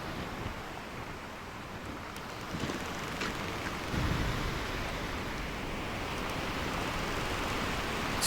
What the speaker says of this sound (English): Maybe we wait out the storm?